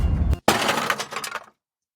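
A loud crunching impact and a burst of shattering glass, followed by a short spray of tinkling shards that quickly dies into silence.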